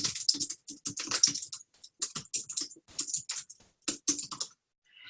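Fast typing on a computer keyboard, bursts of close crisp key clicks broken by short pauses, heard alone without speech.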